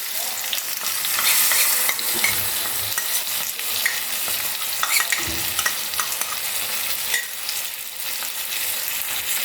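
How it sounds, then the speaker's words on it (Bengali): Spice paste stirred into a sizzling pan of jackfruit and prawn curry; continuous frying hiss with irregular scraping and clattering of the spoon, close and fairly loud, no voices. "এবার আমি এর মধ্যে মশলাটা দিয়ে দিচ্ছি।"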